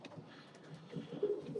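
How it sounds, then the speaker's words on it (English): Young blue bar pigeons cooing softly in a loft, low murmuring coos repeating close by at a quiet level, with no voices. "They are just blue bar pigeons, the young birds."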